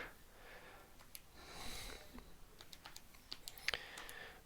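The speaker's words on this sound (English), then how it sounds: "Now I can type this all in my calculator." Numbers being tapped into a calculator, a scatter of light, quick plastic key clicks at close range over a quiet room, with some breathing and a sniff in between.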